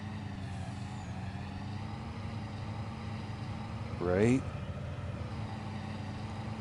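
A truck engine in Farming Simulator 22, pulling a trailer, drones steadily at low pitch, a rising whine and burst of noise partway through, with a voice speaking briefly.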